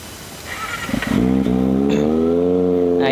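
Kawasaki ZX25R motorcycle fitted with a new short aftermarket exhaust starts up and settles into a smooth, deep, steady idle, close and fairly loud, after some earlier background noise.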